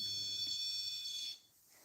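A REM pod gives a steady high-pitched electronic beep for over a second, then cuts off, leaving quiet background hiss, in an old stone jail basement.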